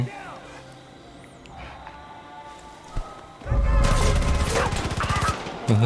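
Gunfire in the video game Far Cry 5, with a sniper rifle in the fight, breaks out as a loud, dense burst of rapid shots and thuds in the second half, following quieter game sounds and voices talking.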